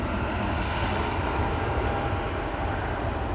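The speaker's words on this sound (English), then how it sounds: "That's the sound of engines of an E2 spooling up or spooling down." Embraer E2 jet engines spooling up at Amsterdam Schiphol Airport, a steady, loud, broad roar with a faint rising whine that holds evenly throughout, with no voices.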